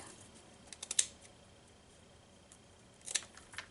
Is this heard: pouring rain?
no